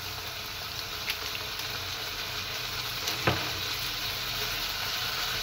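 Chicken fries in a pan seasoned with garlic granules, giving a steady, even sizzle throughout, with one brief scrape of stirring partway through and no voices.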